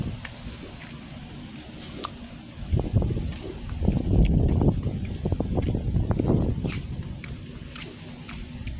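Low, rumbling wind buffeting the microphone beside a pomegranate tree, swelling into heavier gusts midway before easing off, with no voices.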